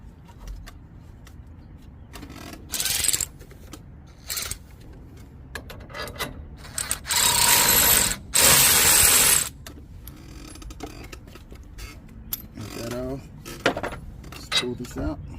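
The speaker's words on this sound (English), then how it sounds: "Just take the bolt off." Ratchet working a tie rod bolt on a Dodge Ram 1500 during a lift kit install, with rapid clicking ratchet bursts, metallic clanks and tool rattles in uneven spurts, close and fairly loud.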